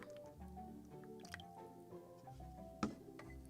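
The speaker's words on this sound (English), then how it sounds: "So in the second jar I will pour some water" Water trickles into a second jar on a model-building workbench, quiet and close, with soft drips and small liquid splashes and a brief louder splash near the end.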